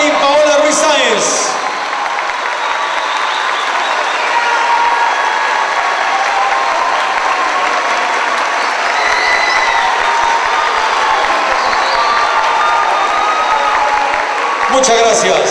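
A carnival crowd gives loud, sustained applause and cheering for a queen candidate at a pageant, filling the space continuously with a swell at the start and end.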